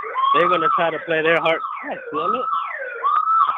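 A wailing emergency siren rises and falls steadily while someone talks loudly over it, the siren carrying on between his words.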